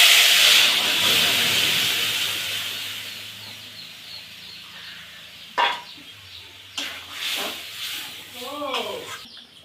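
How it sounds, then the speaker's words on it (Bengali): Hot tempering of fried spices is poured into dal, with a sharp sizzling hiss at first that fades over several seconds, followed by a few knocks and scrapes from cookware. "এবার আমি ডালটা ফোড়ন দিয়ে দেব"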